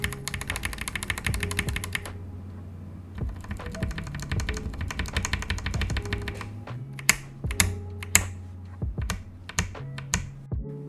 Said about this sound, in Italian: Ora andiamo a sentire la differenza tra un Oil King prelubrificato e uno lubrificato da me